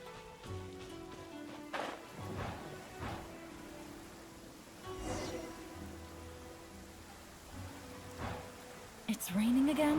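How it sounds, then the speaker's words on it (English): Steady rain falls in the Genshin Impact game world, a continuous wide hiss with occasional louder spatters and swells, holding at an even level for the whole stretch. "It's raining again?"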